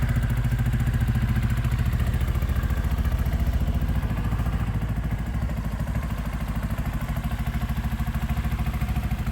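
A Sinnis Outlaw motorcycle engine runs steadily at idle nearby, a fast, even mechanical chatter with a low throbbing pulse that holds constant throughout.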